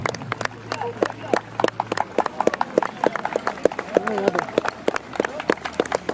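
Hooves of hussar cavalry horses clop in a steady, overlapping rhythm as the mounted unit rides off the field at a Polish Army Museum outdoor show, with crowd noise and some talk around them.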